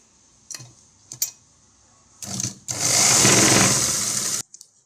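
A sewing machine stitches the lining of a long umbrella frock, with a few short clicks and bursts before a steady two-second run of close, whirring stitching that stops abruptly.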